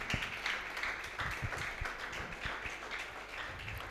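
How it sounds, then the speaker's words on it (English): Steady audience clapping at a youth leadership debate semi-final, welcoming a university team, with dense, even applause that continues throughout at moderate, somewhat distant volume. "please just clap for them"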